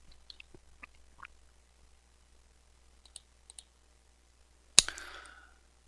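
A computer mouse clicks on a web page button: a few faint, light ticks come first, then one sharper, louder snap near the end in an otherwise quiet room.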